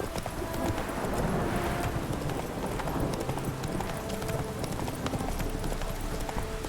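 Roach, Geralt's horse in The Witcher 3: Wild Hunt, trots with continuous, evenly paced clip-clop hoofbeats that stay steady and fairly loud from start to finish.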